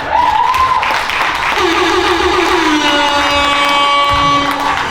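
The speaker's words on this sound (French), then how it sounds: "Ça s'applaudit s'il vous plaît" Guests applaud at a 20th wedding anniversary party in Quebec City, a steady, fairly close wash of clapping with voices and a sustained tone running underneath.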